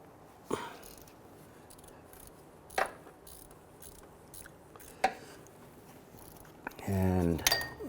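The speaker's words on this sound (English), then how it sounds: "We can use a 14mm deep socket through the wheel well and our ratchet. Let's go ahead and loosen that." Ratchet and 14mm deep socket working on an alternator bolt through the wheel well of a 2006-2012 Toyota RAV4 3.5L V6: three sharp isolated clicks, then a quick burst of ratcheting near the end, close up, with some talk.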